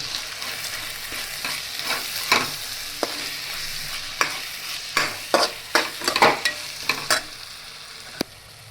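A spoon scrapes and stirs spices through a frying pan in a run of irregular strokes over a steady sizzle, with no voices.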